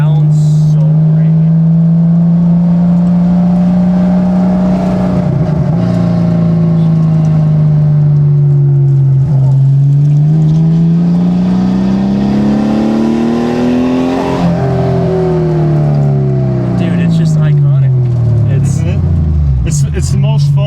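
A 280 horsepower JDM car engine runs loud and close for the whole stretch, its pitch rising and falling through revs. Voices talk over the engine note.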